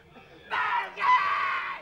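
A loud, sustained scream from a contestant in a children's TV game show where players shout 'bogies' against a studio audience, rising in two strong bursts lasting over a second, heard alone.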